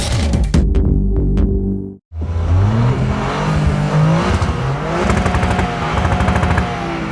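A Honda Civic Type R engine revs hard against its soft rev limiter at a drag race start at Gerotek, Gauteng, in rising, throbbing bursts, cuts out for a moment, then roars again with climbing pitch as it accelerates, close and continuous.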